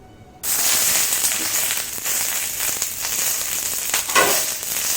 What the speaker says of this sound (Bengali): তাওয়া হিট হয়ে গেছে, এবার আমি একটু সরষের তেল দিয়ে দেবো।